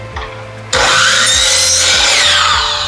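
A miter saw starts up and bites into a wooden board, its loud, steady whine and rasp holding for over two seconds after a quieter lead-in, with no talk.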